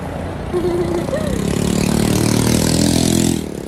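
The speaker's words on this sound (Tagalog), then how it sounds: "Ingay naman ang motor." A motorcycle engine on a city street in Kazakhstan revs and holds a loud, steady drone close by for a few seconds before cutting off.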